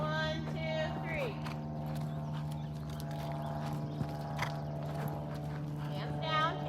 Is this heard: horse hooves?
yes